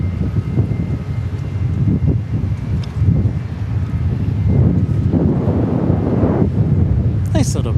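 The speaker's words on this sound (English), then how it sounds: "Nice little breeze. It's honestly like right down the runway." Gusty breeze buffets the microphone at an airport runway, a continuous low rumbling roar that swells and fades, loud and close, with faint aircraft noise and a few high tones near the end.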